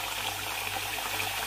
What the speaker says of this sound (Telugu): మినప్పప్పులో కొంచెం నీళ్ళు లేదు, ఇంకిపోయినట్టుంది, సో కొంచెం నీళ్ళు పట్టేసుకుంటున్నాను